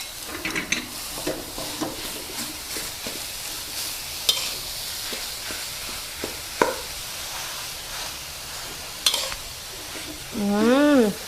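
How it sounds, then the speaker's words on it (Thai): Minced pork and pounded lemongrass chili paste stir-frying in hot oil, a steady close sizzle broken by scattered sharp spatula clanks against the pan, with brief voice-like sounds near the end. "น้ำมันร้อนค่ะ เราก็ใส่ น้ำพริกอ่ะ ที่เราโขลกไว้ค่ะ ลงไปผัดเนาะ"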